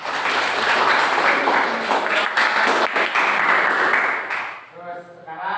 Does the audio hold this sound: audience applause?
yes